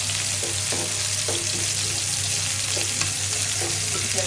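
Potatoes and flat beans stir-fried with ground shrimp sizzle steadily and close up, with a low hum beneath and soft scraping stirs every second or so, no voices.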